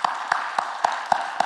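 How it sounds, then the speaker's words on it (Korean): Six rhythmic, evenly spaced claps from a church congregation at a Friday prayer meeting, crisp and close, with faint crowd applause beneath them. "한 번 더 크게 박수 한번 하겠습니다"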